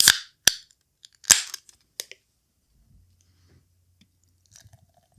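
A can of Taco Fest Mexican-style lager from Ravinia Brewing Company cracks open with a sharp snap and hiss, then a few small clicks and faint fizzing settle into quiet.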